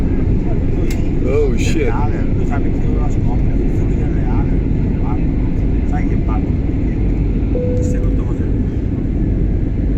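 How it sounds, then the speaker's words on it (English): A fixed-wing passenger airliner takes off from Palermo airport, heard from inside the cabin as a loud, steady engine roar and rumble throughout, with a brief exclamation from a voice early on. "Oh, we have takeoff."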